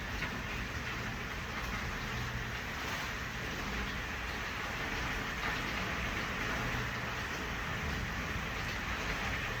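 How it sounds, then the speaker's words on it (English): Steady rain falls continuously, a dense even hiss with no breaks and no voices. "I love to stay back here and listen to the rain"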